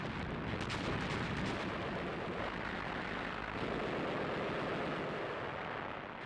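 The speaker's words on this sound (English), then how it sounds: "Under cover of the bombardment, Allied engineers moved forward to clear paths through the Axis minefields." A WWII artillery bombardment in North Africa rumbles as a dense, continuous roar of distant gunfire and blasts, with a few sharper reports early on over the steady din.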